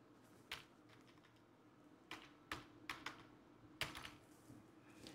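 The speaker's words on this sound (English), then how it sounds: "all I have to do is just type in the friend code" Keys on a computer keyboard are tapped out in a few sparse, irregular clicks as a Steam friend code is entered. The clicks are quiet and close, with a steady low hum beneath them.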